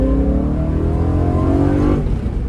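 A loud BMW M3 E92 sports car engine revs steadily upward, a throaty roar climbing in pitch with no voices.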